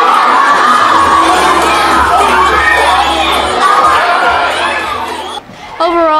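Elementary school children cheer and shout as a loud crowd at a school cultural performance, a sustained roar of excited voices with whoops, dropping briefly near the end before rising again.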